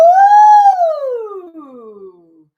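A single voice imitates a siren on a sustained ooh vowel, rising slightly then gliding smoothly down in pitch over about two seconds, loud and close, fading out at the end.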